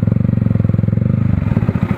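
A motorcycle engine pulling hard at full throttle on a motovlog ride, loud and close, with a rapid, even pulsing thrum that continues throughout.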